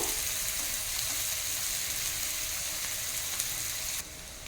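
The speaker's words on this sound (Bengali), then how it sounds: "পেঁয়াজটাকে নামিয়ে ছাড়িয়ে একটু লাল লাল করে ভেজে নেব" Chopped onions fry in hot oil for a shrimp oil-chili curry, giving a steady, dense sizzle that holds evenly throughout and drops slightly quieter near the end, with no voices.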